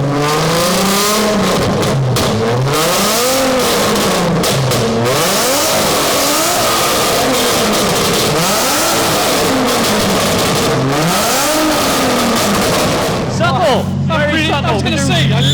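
Loud car engine at a big car show, revved over and over in deep swooping waves, close and overpowering, with a lower idle settling in near the end.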